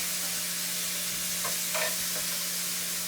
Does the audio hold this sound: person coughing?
no